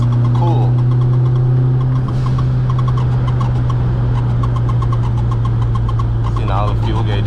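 A 260kW 16VT Mk2 GTS car engine drones loud and steady from close inside the cabin, a constant low hum with a mechanical buzz, and voices talk over it.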